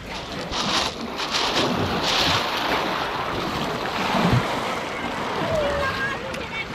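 Black Sea waves wash and surge continuously near the shore at Yalta's seafront, with wind buffeting the microphone and faint voices mixed in.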